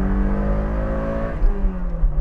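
Toyota sports car engine with a 7,000 RPM redline, revving loud and close in a steady raspy drone that drops off as the revs fall.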